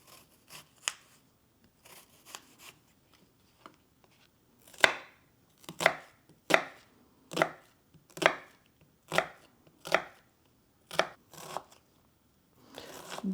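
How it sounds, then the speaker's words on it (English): A knife chops onion on a board in a home kitchen during preparation of Persian okra stew, with sharp, distinct strokes that start sparse and then fall into a steady rhythm of roughly one chop per second, close and alone. "let's go and cut our onion"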